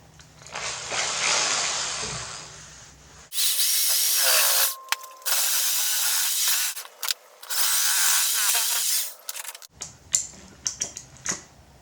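A power drill drives screws while a door is hung: long, loud bursts of whirring motor with brief stops and clicks between them, and a low voice faintly audible at the start.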